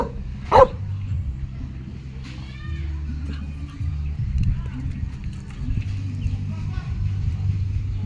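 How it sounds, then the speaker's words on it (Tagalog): A dog gives one sharp, close bark early on, then a steady low rumble and scattered outdoor sounds carry on for several seconds. "May aso po."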